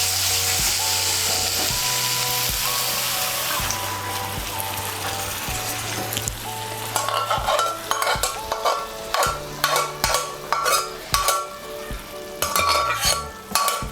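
Boiled chana dal stirred into sizzling, oil-released masala in a pan for a Bengali dal tadka: a steady frying hiss at first, then a run of rhythmic scraping spoon strokes close up, with no voices.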